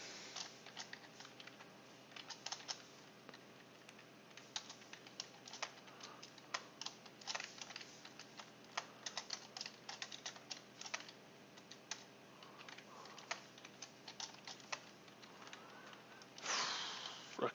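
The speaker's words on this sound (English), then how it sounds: "it's kind of annoying typing all this out" Irregular bursts of typing as code is entered on a computer keyboard, soft close keystrokes in quick clusters with short pauses, ending in a louder shuffle.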